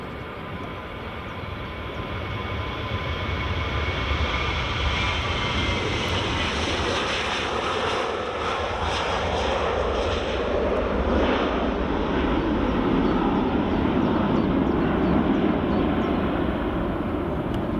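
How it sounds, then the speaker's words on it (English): A Jet2 Boeing 737-800 airliner at Edinburgh Airport, its engine roar building from a distant rumble into a loud, steady broadband whine and rush as it nears, with no voices. "Here comes the Jet2 737-800."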